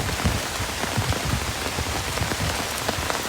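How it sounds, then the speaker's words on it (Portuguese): Heavy rain pours steadily during a fishing trip, a dense close hiss of drops pattering on surfaces with no voices, continuous throughout. "chuva de verdade"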